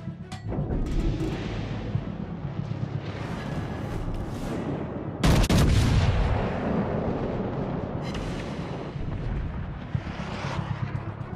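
Heavy naval gunfire from warships in World of Warships Legends, with a continuous roar of booming shots and explosions and a sharper loud blast midway, no voices heard.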